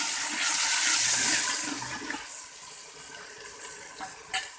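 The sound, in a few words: water being poured into a pot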